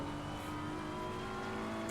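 Race car in Assetto Corsa Competizione at a rainy Barcelona race, its engine droning at a steady, sustained pitch with little change in loudness, a constant mechanical hum with no talk.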